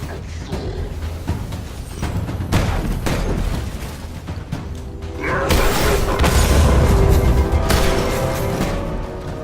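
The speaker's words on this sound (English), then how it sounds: "I do love that grenade so much." Grenade blasts and heavy gunfire from the video game Destiny boom in dense, loud bursts, with a big explosion surge in the second half over continuous game effects.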